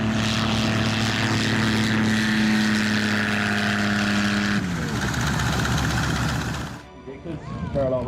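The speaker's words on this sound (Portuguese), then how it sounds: "Lovely touchdown there by our local pilot in the Yak-3" A Yak-3 propeller fighter plane lands on a runway, its loud steady engine drone cutting back partway through as it touches down, with a commentator's voice over it.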